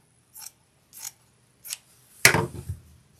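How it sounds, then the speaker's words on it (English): Scissors trim the selvage off a scrappy crazy quilt block: three short, evenly spaced snips, then a longer, louder cutting crunch through the fabric, close and alone. "I am going to cut the salvage off"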